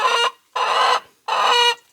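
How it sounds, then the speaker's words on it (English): Three loud, drawn-out squawking calls from chickens, evenly spaced with brief silences between, close and agitated. "these chickens are being so angry"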